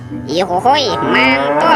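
A cow moos loudly and close, with long bending tones, while a voice exclaims over and between the calls.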